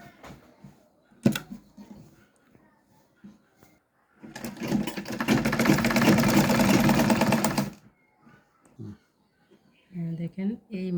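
A sewing machine stitches the side seam of a shirt in one loud continuous run of rapid mechanical whirring lasting several seconds, with a person talking quietly before and after it.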